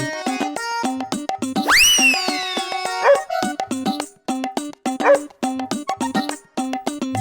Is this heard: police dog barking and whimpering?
yes